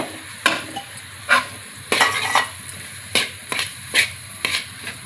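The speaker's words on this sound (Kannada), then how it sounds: "ಈಗ ಹಲಸಿನ ಬೀಜ ಎಲ್ಲ ಹಾಕಿ ತಿರುತ್ತೀನಿ ಈ ಒಗ್ಗರಣೆಗೆ." Jackfruit seeds being stirred into a hot spice tempering in a pan for samosa filling, a steady sizzle broken by repeated scraping strokes of a spoon against the pan, close and alone.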